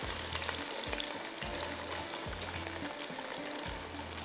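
Rice being fried in a covered pot for sajji rice, a steady loud sizzle with repeated low bumps and clatters from stirring throughout, no voices.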